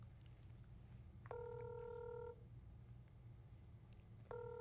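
A telephone rings during a live broadcast, giving two electronic ring bursts about three seconds apart, each a steady tone lasting around a second, over a low background hum.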